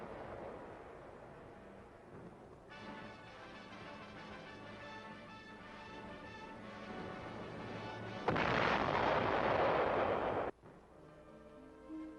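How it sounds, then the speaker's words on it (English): Big guns firing along a snowy Korean War front in winter, a low muffled rumble of distant artillery that swells into a louder burst of blast noise before dropping back to a faint rumble. "The snow muffles the sound of the big guns."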